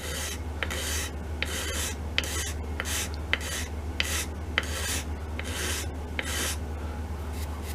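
A leatherworker's skiving tool is pulled along the wooden fore-end of an M1912 Norwegian Krag carbine during restoration, making a dozen short, rhythmic rasping shaves with faint clicks between strokes, up close and without talk.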